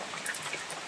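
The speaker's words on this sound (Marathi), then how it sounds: "आता मस्त पाऊस पडतोय" Steady monsoon rain falls in the Konkan countryside, a dense even hiss with scattered drop patter, close and continuous with no voices.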